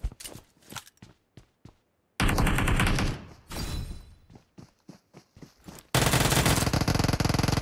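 Rapid bursts of video game gunfire ring out in a shooter mode: a few scattered single shots, then dense sustained volleys broken by short gaps, loud and close throughout.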